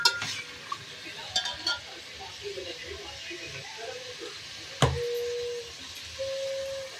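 A spoon stirs potato, peas and parsley in a pan at close range, scraping and clinking irregularly against the metal, with a bright metallic ring partway through.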